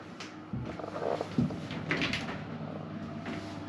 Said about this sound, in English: Don't know why I'm opening the door.